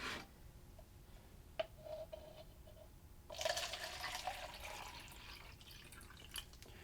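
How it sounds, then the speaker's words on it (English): Water is poured into a cup, a faint trickle followed by a louder, splashing stream of filling liquid that continues and slowly softens, with quiet room noise and no talk. "we're going to put water in the cup"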